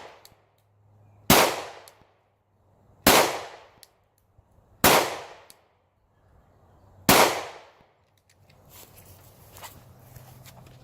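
Four sharp, loud gunshots from a Glock 27 pistol firing Winchester White Box 180 grain .40 caliber jacketed hollow points, spaced about two seconds apart, each with a short decaying echo, then quieter outdoor rustling.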